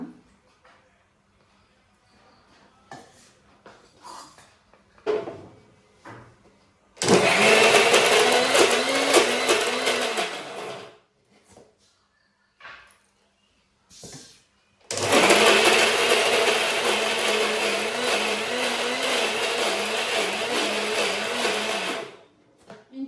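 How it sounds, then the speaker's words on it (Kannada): A mixer grinder jar grinding idli premix whirs loudly in two long bursts, about four and eight seconds each, with quiet pauses and small clicks and handling noises between them. "ಇದಕ್ಕೋಸ್ಕರ ನಾನು ಮತ್ತಂತೇನೆ ಮಿಕ್ಸಿ ಜಾರ್ ಪಾಡ್ದು ಗ್ರೈಂಡ್ ಮಲ್ಪ"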